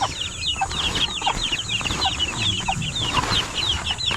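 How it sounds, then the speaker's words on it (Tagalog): Young chicks (nokis broiler chicks) in a brooding pen, a dense chorus of high, rapid peeps from many birds at once, steady and close throughout, with no talking. "Ito na yung mga sisiw natin."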